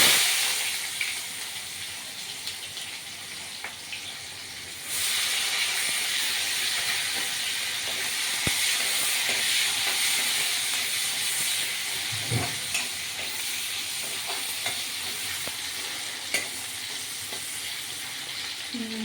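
Onions with dried and green chillies fry in a pan, a dense continuous sizzle that swells louder after a few seconds and holds steady, with occasional stirring clicks, close up.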